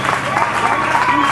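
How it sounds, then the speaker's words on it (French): In a television studio, the audience cheers and applauds as the host returns to the set. It is a short, loud, continuous wash of clapping and crowd noise, with a voice talking over it. "De retour sur ce plateau sous vos acclamations"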